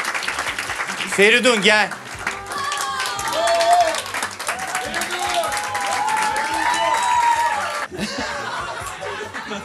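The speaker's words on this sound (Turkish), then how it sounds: "Alkışlıyoruz hanımefendiyi." A quiz night audience claps and laughs for a woman contestant, with a host talking loudly over the steady crowd noise and a short burst of music or jingle near the start.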